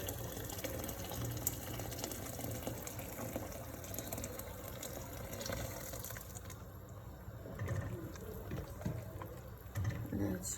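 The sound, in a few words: water poured into a pot while cooking pasta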